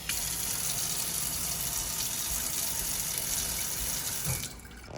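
Water gushes steadily from a kitchen tap in a house as the well pump comes back on after a power outage, a loud, continuous broadband rush that cuts off sharply near the end.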